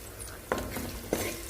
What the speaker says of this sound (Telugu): సో ఆ పేస్ట్ వేస్తున్నాను. చూడండి ఎంత బాగా వేగుతుందో.